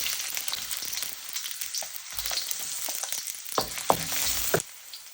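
Onions sizzle in olive oil in a wok with a bright, steady hiss close up, with a few stirring scrapes and light clinks near the end and no voices.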